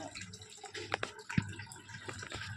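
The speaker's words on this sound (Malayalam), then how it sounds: "വെള്ളം നിറഞ്ഞുകൊണ്ടിരിക്കുന്നു" A small decorative waterfall fills with water in a faint, close trickle, with a few soft drips and splashes over a low continuous burble.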